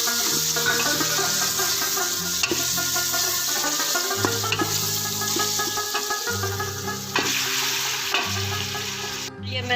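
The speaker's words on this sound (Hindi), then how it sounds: "अब ऐसा ऐसा हमारा गोश्त फ्राई होना शुरू हो गया।" Mutton sizzling in a pan with garlic ginger paste, a loud, steady close-up frying hiss with stirring scrapes running throughout, no talking.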